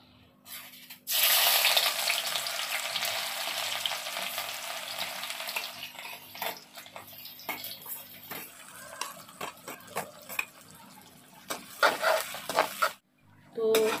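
Garlic and green chillies hit hot oil in a home kitchen pan, bursting into a loud, steady sizzle that settles into continuous frying with occasional stirring scrapes and clinks, nearby and dominant.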